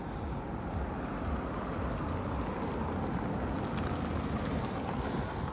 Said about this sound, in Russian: Тут же ветер дует и все выдувает.